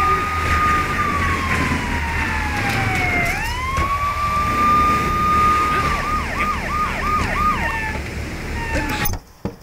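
Police car siren in the video game GTA 3, a loud continuous wail that sweeps up and down, then breaks into rapid yelping pulses near the end before cutting off abruptly.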